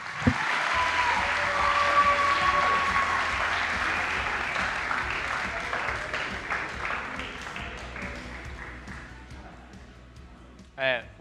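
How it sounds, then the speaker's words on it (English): An audience in a meeting room applauds the coaches, a sustained, even round of clapping that fades gradually toward the end, with a few voices and a brief thump showing through near the close. "All right, one more round of applause for all those coaches."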